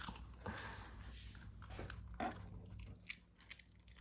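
A small dog crunching and chewing a treat up close, with a few sharp bites and softer gnawing in uneven bursts at low level.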